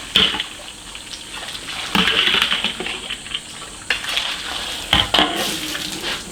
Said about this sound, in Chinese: 把它再洗干净一下，冲一下。